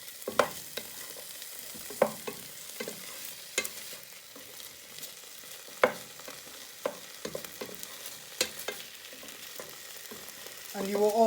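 Chorizo and bacon sizzling in a pan, a soft steady fry punctuated by scattered sharp spatula clicks and scrapes, with a brief murmur at the end.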